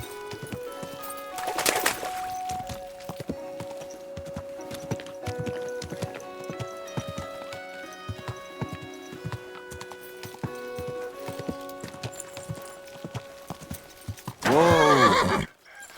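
A horse in the medieval game Kingdom Come Deliverance 2 gives a short neigh early on, then hooves clip-clop in a steady gait under background music, ending in a loud, long whinny near the close.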